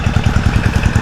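An old motor engine near a rice field idles loud and close, a steady rapid chugging with an even rhythm.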